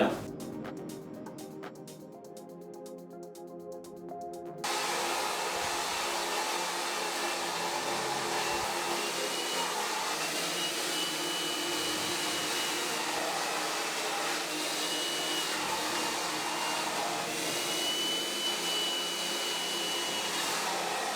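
A blow dryer roars steadily while drying straight, coarse hair, starting faintly behind a brief clicking patch and then running loud and constant after about five seconds.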